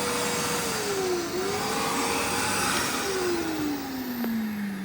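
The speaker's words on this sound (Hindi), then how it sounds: "वैक्यूम ऑन करना है, इस बटन को प्रेस करना है।" A wet dry vacuum cleaner for domestic and commercial use runs steadily and loudly throughout, a constant motor roar with a whining tone that shifts pitch slightly, no talking over it.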